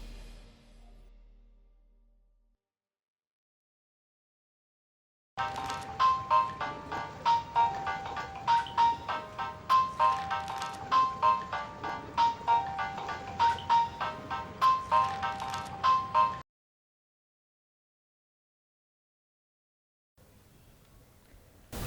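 An unanswered phone call rings out as a melodic ringtone loop for about eleven seconds, steady and fairly loud in a quiet room, then stops abruptly with silence after.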